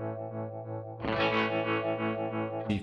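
Electric guitar run through a Line 6 HX Effects unit into a Vox amp simulation, a tremolo effect blended with the dry signal; a steady held chord, then a louder, brighter, pulsing section that swells before a sharp new strum near the end.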